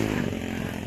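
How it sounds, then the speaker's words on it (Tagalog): A loud, noisy motorcycle engine running nearby, a steady buzzing drone with a rough, rattling texture that holds constant for a brief moment without speech. "Ang ingay na motor nyo!"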